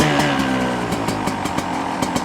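A 2025 Beta 200 RR X-Pro two-stroke dirt bike idles while warming up, its engine putting out a steady buzzing drone close by with regular sharp popping pulses from the exhaust.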